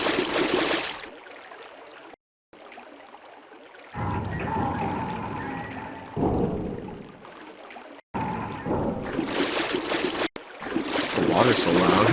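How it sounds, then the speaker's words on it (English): Loud rushing water in Resident Evil 2 on Dreamcast, a heavy flowing wash that cuts in and out in bursts, with a voice talking between the surges. "The water's so loud."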